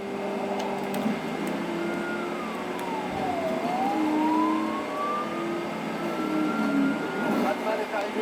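Batman's car driving in the video game Batman Arkham Knight, a steady engine drone with a swooping pitch dip and rise like a siren sweep, moderate level with other game sounds layered in.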